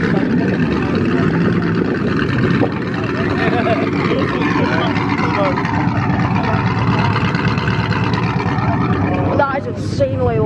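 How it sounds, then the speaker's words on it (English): A Mustang revs at a classic car show at Thirlestane Castle, a loud, continuous engine roar nearby with surging pitch and the crowded show ambience around it. "a Mustang, and a car with it that's revving"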